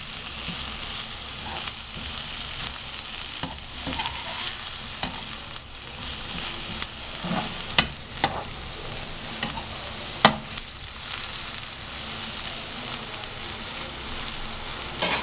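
Onions browning in hot oil in a pan for homemade chicken rolls give a continuous, even sizzle, broken by a few sharp clicks and taps from stirring.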